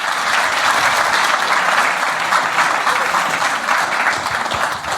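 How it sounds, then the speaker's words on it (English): Steady, dense applause from a large audience at a live stage show in London, continuous and full for the whole stretch with no voices over it. "Well, a round of applause there."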